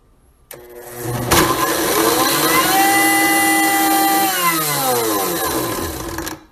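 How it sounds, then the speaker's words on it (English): A kitchen blender starts up with a sharp click, whirs loudly at steady speed for several seconds with a rising and falling motor whine, then winds down, no talking. "Toss all those ingredients into your blender and hit a random button."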